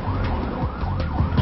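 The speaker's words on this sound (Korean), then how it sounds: "그런데 갑자기 이송 차량이 사이렌을 울리며 속도를 높이기 시작합니다." A patient transport vehicle's siren wails loudly and close by as the vehicle speeds up on the road. The rising and falling tones repeat over the engine and road noise.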